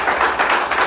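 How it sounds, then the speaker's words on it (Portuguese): A church congregation claps together in a dense, loud burst of applause, short and energetic with no voices over it. "Pode aplaudir e glorificar."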